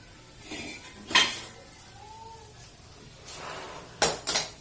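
Parts of a gas stove clatter and clink as its regulator is taken off, a few sharp metallic knocks and rattles separated by quiet gaps, close by, with no talk.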